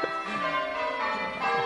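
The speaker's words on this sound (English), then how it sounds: "Bloody bells." Bells ring in a sustained, resonant wash of overlapping tones, loud and close, with a faint voice briefly underneath.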